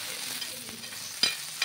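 Green chillies sizzle and fry in oil on a hot griddle for a Maharashtrian thecha, giving a steady close crackle with a few sharper spits and stirring scrapes.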